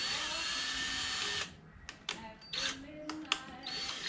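A power drill whines steadily for over a second, then stops; short bursts and clicks of the tool follow, fairly close and moderately loud.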